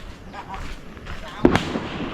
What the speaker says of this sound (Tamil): பட்டாசு இங்கே வரு, சரம் வச்சுருக்காங்க இவர்.